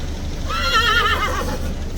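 A horse neighs close by, a clear wavering whinny lasting about a second over steady low street noise, as police horses pass on a trailer in a busy tourist area.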